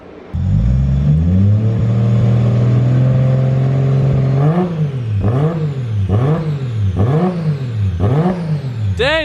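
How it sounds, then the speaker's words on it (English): A single-turbo RB26 car engine idles briefly, then revs hard five or six times in quick succession, each rev rising and falling with a whooshing turbo whine, loud and close. "Dude, it revs so nicely, huh?"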